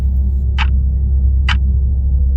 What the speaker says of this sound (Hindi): घड़ी की टिक टिक आवाज साफ सुनाई दे रहे थे